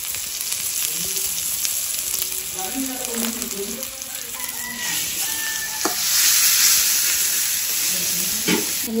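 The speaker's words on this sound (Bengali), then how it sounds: "সুন্দরভাবে মশলাটা কষানো হয়ে গেছে।" Spice paste with turmeric powder and a little sugar being stirred and fried in a pan for an egg curry, with a steady close sizzle, scraping stir strokes and a brief louder hiss near the end.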